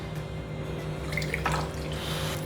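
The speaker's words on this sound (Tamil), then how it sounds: "இதில் ஒரு பாதி அளவு நம்ம தண்ணி சேர்த்துக்கலாம்." Water is poured into sugar in a wide pan, giving a soft, continuous trickling and splashing that stays fairly quiet and close over a light background hiss.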